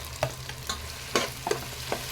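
Sliced mushrooms sauté in a pan for mushroom biryani: a soft sizzle runs under a few sharp scrapes and clacks of a stirring spoon, close and fairly quiet.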